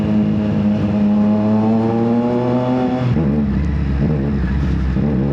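A Triumph Street Triple motorcycle with ride-by-wire, quick shifter and auto blip revs loudly close by, its engine note holding steady and then dropping sharply with a blip partway through, with no talking.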